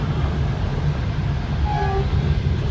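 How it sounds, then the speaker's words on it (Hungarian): An oncoming train rumbles past a night sleeper train on a double-track line in Romania, a steady loud low roar with a brief faint tonal horn-like note near the end. "Jön szembe valami vonat."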